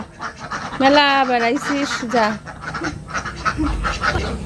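Several ducks quack in a burst of nasal honking calls, close by, while a person shouts over them.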